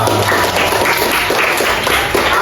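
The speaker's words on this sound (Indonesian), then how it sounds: "Tepuk tangan buat dia." A primary school class applauds a student, steady dense clapping filling the room throughout without a pause.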